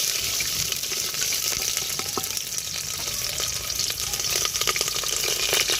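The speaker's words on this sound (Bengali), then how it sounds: "পেঁয়াজটা ভেজে নেবো" Onions sizzle in hot oil in a pressure cooker pan, a continuous bright crackling hiss with occasional stirring scrapes, close and steady throughout, with no voices.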